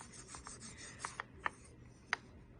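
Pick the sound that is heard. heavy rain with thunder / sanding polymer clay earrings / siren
sanding polymer clay earrings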